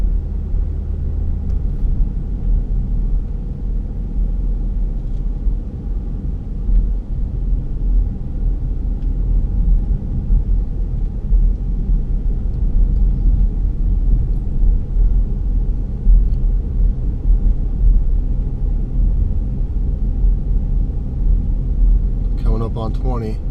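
A 2011 Ford Flex Limited's engine under throttle, a steady low rumbling drone that holds constant and loud throughout, with a faint voice briefly audible near the end.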